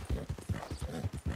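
Hooves of a horse clip-clopping in Red Dead Redemption 2, a fast, regular run of near hoof beats, fairly quiet, with no talk.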